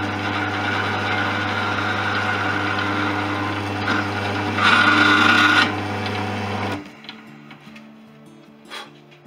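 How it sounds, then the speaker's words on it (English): A drill bores through the first hole of a metal routing jig held in a vise during a Fisher Youngster V kit plane build, a steady whining hum with a grinding rasp, then it winds down and stops near the end. "I'm just going to run the drill"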